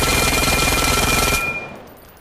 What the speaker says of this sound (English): This is a really fast SMG, or AR, whichever one it is.